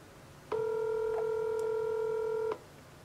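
A phone line gives a single steady electronic tone lasting about two seconds, fairly loud and clean against a faint background hiss, while a number is being called. No one speaks.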